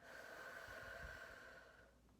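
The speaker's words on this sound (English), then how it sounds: "Breathe in and breathe out." One long, soft exhale from a person during a stress-relief breathing exercise, a steady close airy breath that fades out at the end, quiet and alone.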